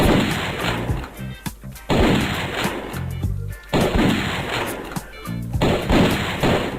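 Shotgun blasts in a video game, heavy booming shots repeating every couple of seconds at close range, loud and dense with low-end thump and a short rattling tail after each one.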